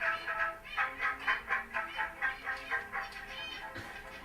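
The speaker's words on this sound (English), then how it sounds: "this is birds triggering gamelan samples" Gamelan samples triggered by birds form a steady train of bright metallic pulses, about four per second. They are moderately loud at first and thin out toward the end.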